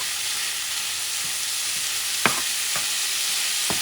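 Ground beef frying in a pan, giving a loud, continuous close sizzle broken by a few scraping stirs of a utensil.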